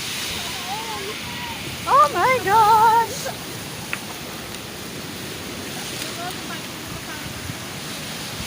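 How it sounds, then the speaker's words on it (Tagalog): Strong surf breaks on the shore at Bagbag Beach in Alaminos City, Pangasinan, a constant roaring wash of waves with wind buffeting the microphone, while a woman briefly exclaims partway through. "Lalakas ang alon."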